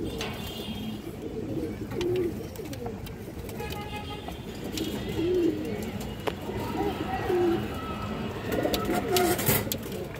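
Pigeons coo repeatedly in a pigeon sale setting with several breeds, including a silver male, giving soft, throaty calls that recur over ten seconds amid a busy background with occasional other noises.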